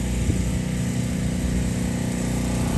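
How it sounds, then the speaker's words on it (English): A neighbors' generator runs after Hurricane Ian, giving a loud, steady engine drone that holds constant and close with no breaks. "Yep, that's their generator."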